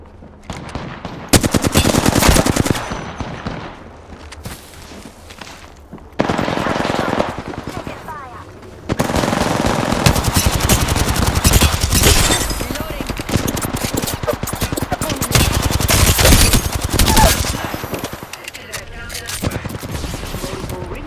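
Automatic weapon fire in the video game Apex Legends, loud rapid bursts broken by short pauses across the clip, with voices talking over the shooting.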